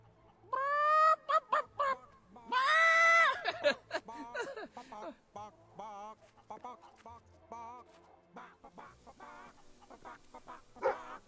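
Chickens clucking and squawking in the video game Fable 3, loud close bursts of harmonic cackles followed by a run of shorter clucks, with someone talking over them.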